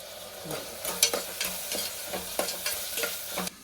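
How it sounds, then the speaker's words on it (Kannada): Fenugreek rice (menthya bath) ingredients fry in a pan while a spoon stirs them, giving a steady sizzle broken by regular scraping strokes against the metal, close and moderately loud with no talking. "ಚೆನ್ನಾಗಿ ಕೆಂಪೆ ಫ್ರೈ ಮಾಡ್ಕೊಳ್ಳಿ."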